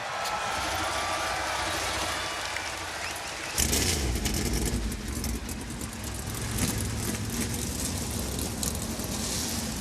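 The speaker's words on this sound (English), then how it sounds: "Drivers, start your engines." NASCAR Cup Series race car engines fire up together at Indianapolis Motor Speedway, a dense roar of many engines jumping in at once and rumbling steadily behind crowd and track noise.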